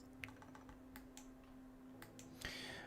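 Keystrokes on a computer keyboard entering a bank PIN for a RuneLite game plugin, a quick run of light clicks with short pauses, close and fairly quiet over a steady electrical hum.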